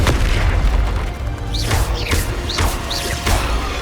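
Confringo spell blasts in Hogwarts Legacy land as a low, dense booming rumble with sharp whistling fiery streaks, several quick casts in succession, loud and close.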